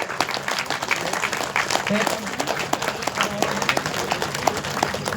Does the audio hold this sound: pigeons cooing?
no